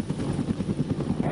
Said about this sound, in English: the more powerful AH-1W Super Cobra